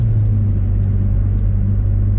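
Steady low engine drone from a stock Saab 9-3 TurboX heard from inside the car while driving, a continuous deep rumble with no revving or breaks.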